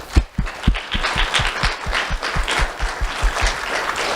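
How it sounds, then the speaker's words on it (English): Students at an awards ceremony applaud their parents, a dense, steady round of clapping from a sizeable crowd, with a few sharper individual claps standing out, lasting throughout. "students, if you'll join me in giving your parents a round of applause"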